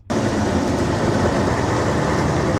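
Bus cabin noise test track for headphone noise cancelling: a dense, steady broadband engine-and-road roar, loud and continuous from start to end, with no talking.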